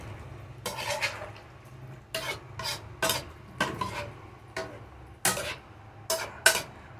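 Pakbet vegetables (okra, eggplant, tomato, sweet potato) sauté with a little meat, heard as repeated bursts of stirring and scraping in a pan over a faint low sizzle.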